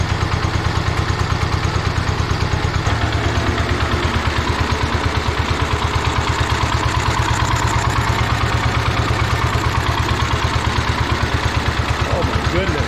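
A 1970s Cub Cadet tractor engine, long stuck and just revived, idles steadily, a loud, even mechanical putter that runs throughout with a slight shift in tone partway through.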